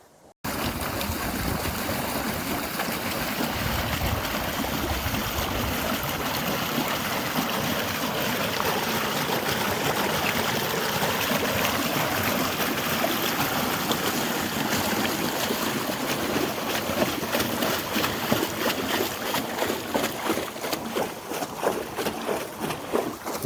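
Flood irrigation water rushes steadily through a delivery channel feeding pasture and a small orchard, a continuous close broadband gush of flowing water with no talk.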